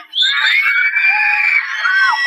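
A crowd screams at a dragon during a play, a loud, sustained high-pitched group shriek lasting about two seconds that rises and wavers before tailing off.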